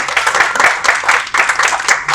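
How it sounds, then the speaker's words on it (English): A small audience clapping at an awards ceremony, close and fairly loud, with uneven bursts of handclaps that rise and dip over a couple of seconds. "can we give them a round of applause?"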